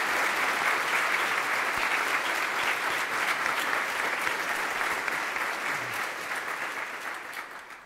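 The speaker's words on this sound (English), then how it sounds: "Let's give them a round of applause." An audience at a theological lecture event gives a sustained round of applause after a choir prelude, dense even clapping throughout that fades slightly at the end.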